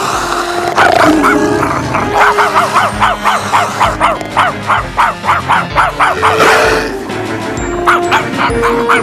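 A dog barks rapidly and repeatedly in a steady run of sharp yelps, loud and close, with other dogs and commotion in the background, in an animated film.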